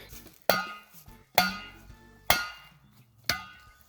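Four sharp, ringing knocks of a glass bottle striking a tree trunk, evenly spaced about a second apart, each with a short resonant decay.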